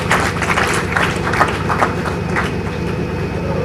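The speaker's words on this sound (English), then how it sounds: "Please, a round of applause for Professor Patrick Toby." An audience at an event applauds Professor Patrick Toby with a steady, dense patter of many hands clapping at once, sustained and fairly loud throughout.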